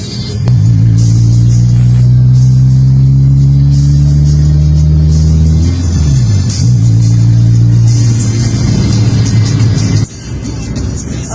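An engine revs hard through a scav muffler exhaust fitted with a dual exhaust cut-out, a loud droning buzz that holds, dips sharply and climbs again before dropping off near the end.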